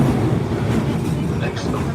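A Melbourne City Circle tram rumbles along its tracks with a steady loud rolling roar and faint rattles from up close, and a brief squeal near the end.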